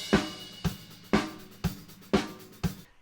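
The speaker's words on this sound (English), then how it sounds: "We used a ribbon mic on this session and it sounds like this" Six evenly spaced cymbal crashes recorded with a ribbon mic, a drum thump at each, bright washy decay between hits, close and fairly loud in a steady pulse.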